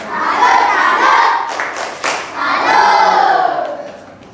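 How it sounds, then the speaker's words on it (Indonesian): A classroom of students claps and shouts together for a classmate named Naila, loud and close, with rhythmic clapping and chanted cheers rising in two bursts. "Dan tepuk tangan buat Naila"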